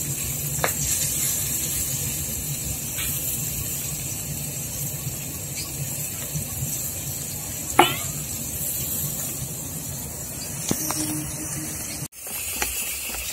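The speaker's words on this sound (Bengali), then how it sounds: "দেখুন এটা 5 থেকে 10 মিনিট কিন্তু এভাবে ফেটাতে হবে" Gram flour batter mixed with water being whisked continuously by hand for potato and tomato chops, a steady close scraping and swishing with occasional sharper clicks, no talk.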